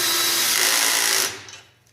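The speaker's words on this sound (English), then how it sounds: "Get your power drill with a socket" A power drill fitted with a socket runs steadily at high speed tightening a stud clamp, a loud continuous whine for over a second that then cuts off and spins down, with no talking.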